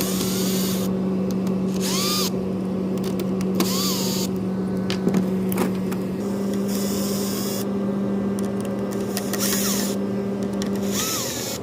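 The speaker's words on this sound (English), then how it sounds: "I did use my drill to take the screws out on the factory dash" A power drill whirs in several short bursts with pauses between, a steady mechanical hum underneath, as it removes screws from the factory dash of a 2013 Honda Civic.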